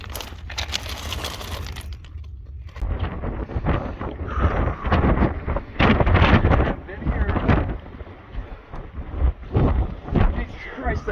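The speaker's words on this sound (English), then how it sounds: "that wind is something else" Strong desert wind buffets the microphone in heavy, gusting rumbles that swell and fade throughout, loud and close, with a brief lull near the start.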